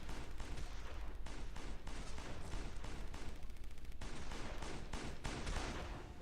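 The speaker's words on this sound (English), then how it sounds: "The shotgun's pretty good. It can shoot and kill them from pretty far away." Repeated shotgun blasts from the Road Redemption video game, loud and rapid, a dense string of sharp booms with brief gaps, continuous over engine and game noise.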